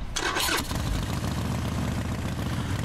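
A used 2011 Harley-Davidson Sportster Forty-Eight motorcycle fires up with a brief starter whir, then settles into a loud, close, lumpy idle rumble.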